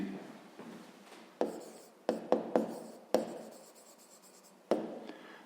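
A pen scratches across paper while working a fifth-grade math exercise, quiet close strokes broken by sharper taps and pauses in an irregular rhythm, with no speech.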